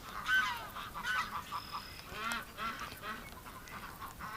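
Ducks in a snowy winter pen quacking and honking intermittently, faint and somewhat distant, several birds calling in scattered bursts.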